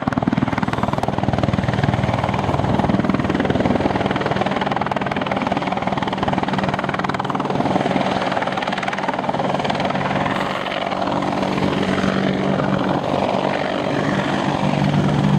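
An Apache helicopter's loud, steady rotor and engine roar holds close and constant as it comes in and stops to hover midair, with no voices.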